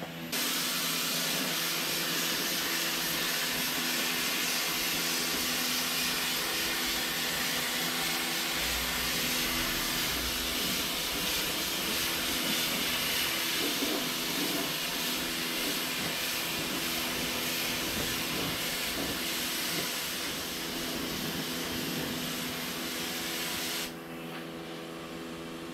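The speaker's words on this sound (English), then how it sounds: "So I'm just going to paint the engine bay." Spray gun painting the engine bay of a 1983 Volvo 240, a continuous loud hissing spray with a steady compressor-like drone running nearly half a minute before easing off at the end.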